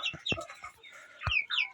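Hens in a backyard flock cluck in short, sharp bursts, close by, with a few quick squawky calls spaced irregularly over a couple of seconds and no talking.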